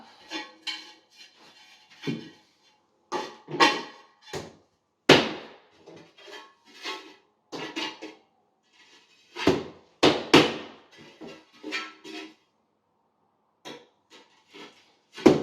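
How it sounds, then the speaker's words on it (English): Floor tiles are struck down into fresh adhesive, a run of irregular, sharp, close knocks and taps with scattered softer bumps and pauses between them. "I like to kind of strike them in to suction cup them down to the floor"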